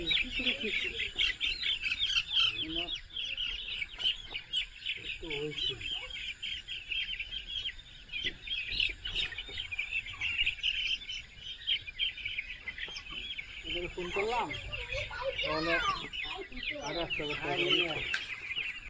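Poultry chickens on a farm, three thousand birds just given their day-seven vaccination, cluck and chirp steadily at close range as a dense flock, with no speech over them.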